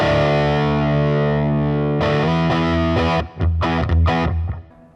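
Electric guitar played through a Way Huge Swollen Pickle distortion pedal, loud and saturated: a long ringing chord, then a string of chopped, stabbing chords cut off by short gaps before fading out.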